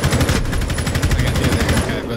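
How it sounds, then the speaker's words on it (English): Rapid gunfire shooting through a wall in Rainbow Six Siege, a loud, fast rattling burst of repeated shots sustained for about two seconds. "You can wallbang him. Shoot through that wall."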